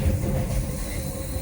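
A train running on an Indian railway line through a tunnel region, a loud close low rumble of wheels and carriages rolling steadily, with no voices.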